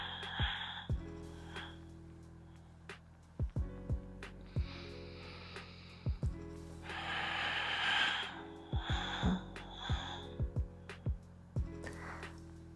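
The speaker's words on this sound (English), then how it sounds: "Breathing in." Slow, deep diaphragm breaths during a mobility exercise: soft airy inhales and exhales swell and fade alongside faint background tones and occasional clicks.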